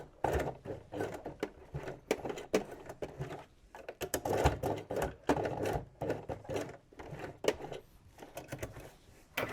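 A sewing machine stitches through a denim workwear jacket in short, uneven bursts of rapid needle thumps and clatter, close and fairly loud, with brief pauses between runs.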